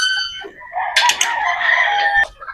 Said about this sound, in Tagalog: Ito naman yung mga Boston pulit na dadalhin natin.